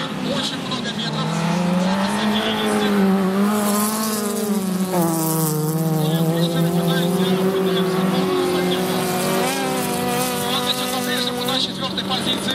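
Autocross race cars on a dirt track, engines revving and straining loudly and continuously, with pitch rising and falling as they accelerate, while a commentator talks over the racing throughout.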